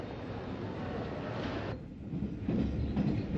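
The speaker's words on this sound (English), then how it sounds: "As the train leaves Victoria," 1939 Southern steam train pulling out of Victoria, recorded from the cab: a rough, continuous rumble of wheels and machinery, loud and close, with a brief dip midway before the noise surges again, no talking.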